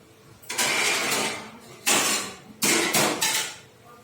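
A lid goes onto a cooking pot of prawns and potatoes, a few close metallic clanks and scrapes in separate bursts, with no voices.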